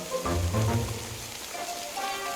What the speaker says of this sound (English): So I go back to standing outside on top of the hill in the rain